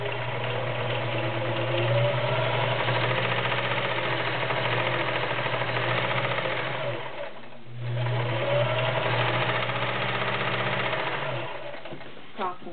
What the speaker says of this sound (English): I'm going to sew these together so you can hear it work.